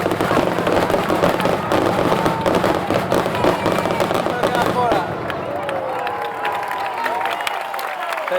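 Festival fireworks at the Festa Major in Sant Feliu de Guíxols, launched from water level and bursting overhead: a dense, loud barrage of crackling explosions that thins out, leaving fading whistles and crowd noise.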